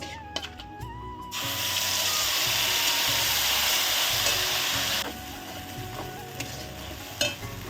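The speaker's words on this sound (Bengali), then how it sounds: "যে মশলাটা আমি রেডি করেছি সেটা এখন ঢেলে দেব" Spice paste poured into hot oil already holding cardamom, cinnamon and cloves for a prawn malai curry erupts in a loud, steady hiss that holds for several seconds, then drops abruptly to a softer simmering sizzle with occasional clinks.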